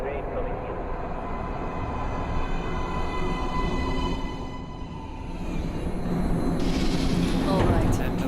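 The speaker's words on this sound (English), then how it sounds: "Please step away from the edge of the platform. Train coming in." A train in the video game Metro Last Light rumbles into an underground platform, a loud continuous low roar with a rising metallic whine and rattling near the end.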